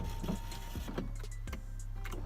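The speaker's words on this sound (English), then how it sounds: "the motor is definitely working, but the window's not moving" A car's power window motor hums steadily while the window glass stays put, apparently off its track, with the whir running continuously and fairly close throughout.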